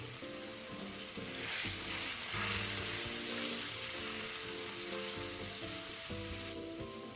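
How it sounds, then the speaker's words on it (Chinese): A pan of sauce thinned with water and salt and brought to a boil on high heat, for fried pork rib noodles, hisses and bubbles steadily throughout, with soft music underneath. "另多加300毫升清水，半小匙盐， 拌一拌，大火继续煮开。"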